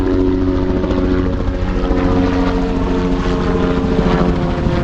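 Helicopter passing overhead near a riverbank fishing spot, a steady loud rotor and engine drone with a strong low throbbing hum throughout, no talk.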